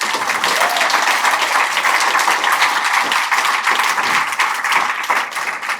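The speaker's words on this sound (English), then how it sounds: "Can we get another round of applause?" Audience applause at a Pechakucha presentation night in Bermuda, with dense, steady clapping from a crowd that holds for several seconds and tapers slightly near the end.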